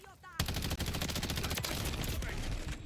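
Rapid automatic gunfire rattles in a Call of Duty: Modern Warfare III multiplayer match as a dense, continuous burst of closely spaced shots, fairly near and loud for about two and a half seconds.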